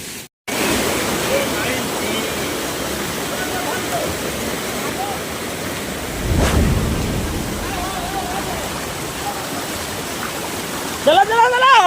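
A waterfall rushes steadily and loudly, close by, with a broad constant roar of falling water that swells slightly partway through.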